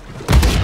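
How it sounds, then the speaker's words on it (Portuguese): A booby-trapped boat blows up in Uncharted 4: a quiet lull gives way to a sudden, loud, close boom, followed by a rolling, crackling blast that carries on to the end. "Ui, uma grande explosão!"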